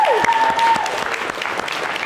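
Wedding guests clapping at a reception during a speech, a short burst of steady, fairly close applause with no talking over it.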